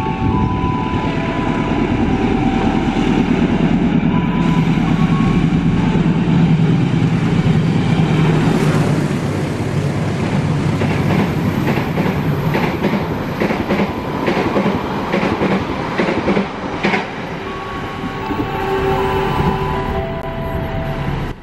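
A passenger train on an Indonesian railway rolls past loudly and continuously, with a deep rumble, clattering wheels over the rail joints and a high metallic whine.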